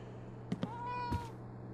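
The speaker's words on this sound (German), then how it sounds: "Valkyrie, abgefahrener Name für eine Katze." A cat meows in the video game Life is Strange: True Colors, one soft, drawn-out meow following a couple of faint taps over a quiet background hum.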